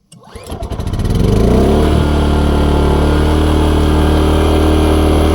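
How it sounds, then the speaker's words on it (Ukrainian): A BLITZ petrol generator engine catches and settles into a steady, loud, close drone with a constant buzzing hum and no talk over it. "Генератор прогріли і готовий до тесту."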